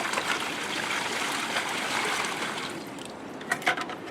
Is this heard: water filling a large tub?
yes